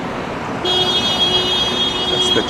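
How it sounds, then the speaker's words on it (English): On a downtown Toronto street, a car horn sounds one sustained honk at a vehicle trying to turn left, standing out above a steady wash of traffic noise. "Someone getting honked at for trying to make a left there"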